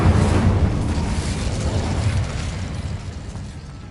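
Incendio fire spell cast in Hogwarts Legacy, a loud burst at the very start that rolls into a whooshing, roaring rumble and slowly fades away.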